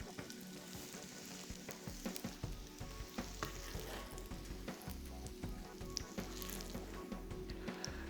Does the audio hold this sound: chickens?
no